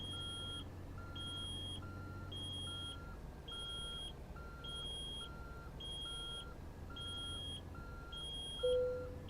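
A warning beep in American Truck Simulator repeats in a steady, evenly spaced electronic pattern over a low engine hum, with no talking.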